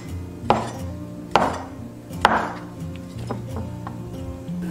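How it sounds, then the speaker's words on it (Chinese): A knife chops egg-filled pork sausage into short pieces, three sharp, distinct cuts against a board followed by softer taps, close and clear. "我们把鸡蛋肠切成小段"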